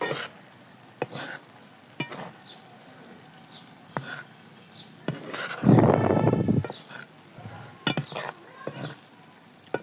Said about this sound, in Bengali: তো ঢাকনাটা উঠে একটু নেড়ে চেড়ে নেব আবার